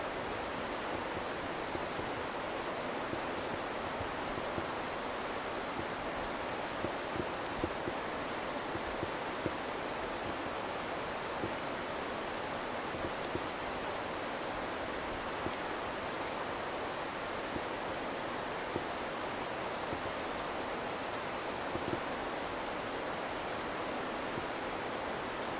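Steady broadband roar of a waterfall at close range, a rope hanging above it and wind moving the rope, continuous and unbroken with no voices.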